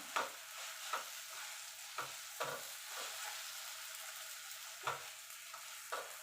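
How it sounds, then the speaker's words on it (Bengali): Tapioca pearls and sugar are stirred in a pan with a spatula, soft scraping strokes repeating every second or so over a faint, quiet sizzle, close up with no voices. "এবার নাড়তে থাকবো দেখবেন নাড়তে নাড়তে চিনিটা গলে যাবে"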